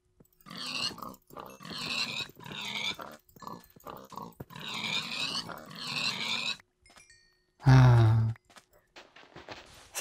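Pigs from the Minecraft video game grunting and snorting in a few short bursts, ending with one loud, deep, close grunt near the end, with quiet gaps between calls.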